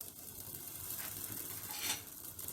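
Moroccan batbout, stuffed flatbread, sizzling gently in a hot oiled pan as it is flipped with a spatula, with a soft scrape and a brief louder crackle near the end, no talking.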